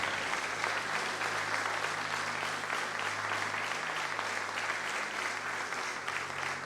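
A church congregation applauding during a service, sustained dense clapping from many hands filling the room, loud and even throughout.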